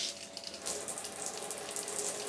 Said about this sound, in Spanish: yo puedo apretar este gatillo y va a salir agua